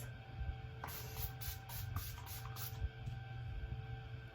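A series of quick hissing spritzes from a makeup setting spray bottle onto a face, close up, about six pumps in a row before it stops.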